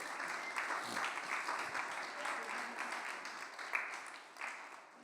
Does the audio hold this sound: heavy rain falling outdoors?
no